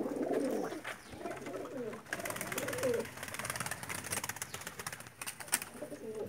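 Pakistani pigeons (Tedy kabootar breed) cooing close by, several repeated soft rolling coos in a loose rhythm over steady background hiss, without talk.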